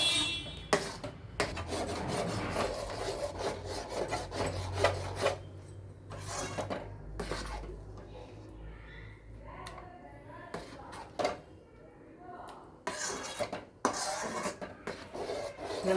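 Spoon stirring thick black rice halwa (karuppu kavuni rice with sugar) in a pan, intermittent scraping and rasping strokes close by, with pauses and a few soft background noises.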